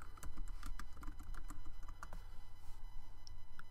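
Rapid, steady keystrokes on a computer keyboard as login details are entered, close and clear with no talk over them.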